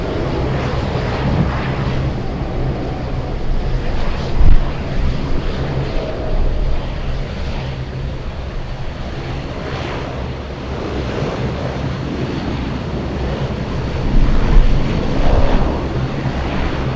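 Wind roars into the microphone at an airport plane-spotting spot in Anchorage, a loud, steady broadband rush with occasional stronger gusts and thumps, with no talking.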